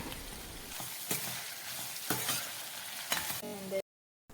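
Chopped bitter gourd sautés with salt in a pan, a soft sizzle punctuated by four or five spoon scrapes and stirs roughly once a second, then a sudden cut to silence near the end.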